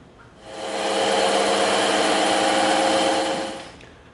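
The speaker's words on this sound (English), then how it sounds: "we're gonna go over to the bandsaw and we're gonna cut each one of these notches out" A bandsaw cuts notches out of EVA foam pieces, running in one loud steady whine for about three seconds, with the motor note rising at the start and falling away at the end. No one speaks.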